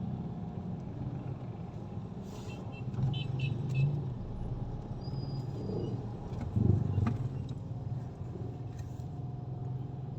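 Steady road traffic on a busy Manila street in the Quiapo area, a continuous low rumble of cars passing at close to moderate range, with a couple of louder vehicles swelling by around the middle and end.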